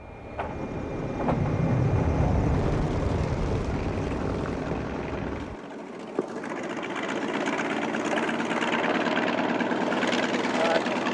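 A T-28 bomber's piston engine drones loudly and steadily, shifting in tone partway through as the engine note changes, with a constant roar throughout and occasional clicks.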